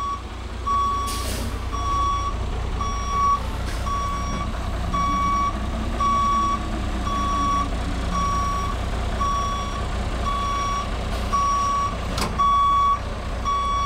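A Class B truck backs up slowly on a skills training course, its reversing alarm beeping in a steady, even rhythm over a low diesel rumble, with an occasional air brake hiss.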